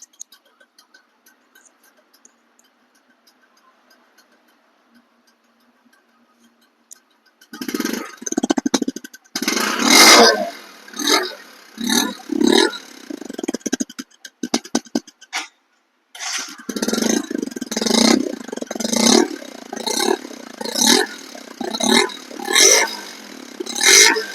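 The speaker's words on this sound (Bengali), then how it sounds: "এখন আমি আপনাদেরকে দেখাবো এই বাইকটি স্টার্ট করে দেখাবো" A 2025 Discover 125cc motorcycle sits near-silent with faint ticks before its engine fires up around the midpoint and is revved repeatedly in loud rising and falling bursts, close by, with a brief pause before more revving.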